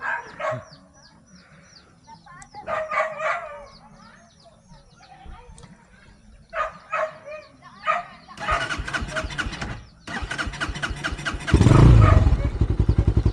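A Skygo Boss 150 motorcycle engine cranks and fires up after sitting a week, with bursts of starter and engine noise growing louder toward the end; voices and animal sounds occur earlier.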